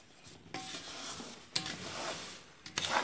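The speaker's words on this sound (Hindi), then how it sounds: "तकरीबन 20 मिनट हो गए हैं दाल को भूनते हुए, दाल ने घी छोड़ना शुरू कर दिया है" Dal being stirred as it roasts in ghee in a pan, a steady scraping stir with soft sizzle and a few sharper knocks, close and moderately quiet, no talking.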